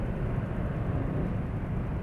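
A motorcycle engine runs with a rough, noisy tone, a continuous low rumble that holds steady and fairly close, with no voices over it.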